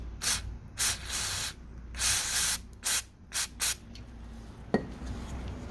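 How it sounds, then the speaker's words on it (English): Spray cleaner hisses through a carburetor emulsion tube during a motorcycle carb rebuild, in several short bursts of varying length with one sharp click near the end, close and alone. "To make sure your emulsion tube is working, you can spray in the top."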